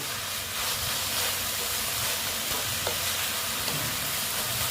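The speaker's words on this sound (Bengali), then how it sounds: "দেখো আমি এইভাবে একটু নেড়ে চেড়ে নিচ্ছি" Red amaranth greens fry in a pan while being turned over, producing a dense, steady sizzle with soft stirring scrapes underneath, close and even throughout, with no one speaking.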